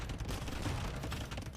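Bombard cannons fire in an Age of Empires–style castle siege battle, a dense rumbling barrage of booms and crackling impacts, fairly faint and continuous, with no talk.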